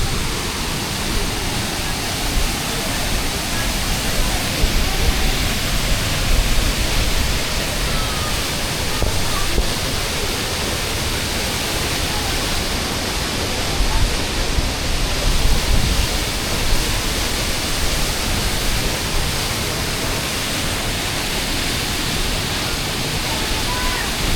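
The Randha waterfall at Bhandardara, Maharashtra, gives off a steady, dense roar of rushing water that fills the whole stretch evenly and barely swells or fades.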